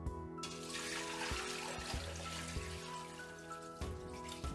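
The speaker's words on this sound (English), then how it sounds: "Now pouring the stock through the sieve to remove all the bones." Homemade chicken stock poured through a sieve to strain out the bones, a soft steady trickle and splash of liquid running on for several seconds over a faint background hum.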